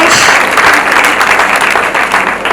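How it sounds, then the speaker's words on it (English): Loud, dense crowd applause at a speech and sound competition for Belfort Secondary School, a brief continuous burst of many hands clapping close by. "Round of applause"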